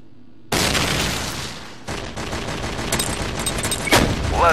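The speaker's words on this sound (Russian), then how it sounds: "Граната." Gunfire and a grenade blast in the video game Run and Fire come in as a sudden dense burst of rapid shots, then a second wave of continuous firing that builds to a heavy boom near the end, loud and close.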